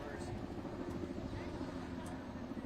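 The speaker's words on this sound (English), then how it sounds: "we are hearing a helicopter overhead" A helicopter passes overhead as a steady, low rotor rumble that holds at a constant level throughout, somewhat distant and muffled, with a faint background murmur.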